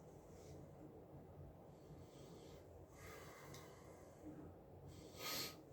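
Several soft sniffs and breaths come close to the microphone, faint and spaced out, with one stronger inhale near the end.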